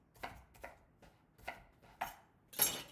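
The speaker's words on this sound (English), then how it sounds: "All right, we'll chop through here." Six crisp knife strokes chop through an onion on a cutting board in a home kitchen, evenly spaced sharp thuds that get louder toward the end, with no talking.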